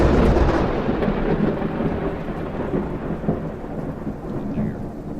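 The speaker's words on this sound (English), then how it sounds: "Lightning struck. Yes, it did." Thunder rolls after a lightning strike during a storm, a loud, deep rumble that starts strong and slowly fades, with a wash of rain beneath it.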